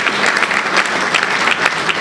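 Room of union seminar attendees gives a loud, dense round of applause, steady continuous clapping close by.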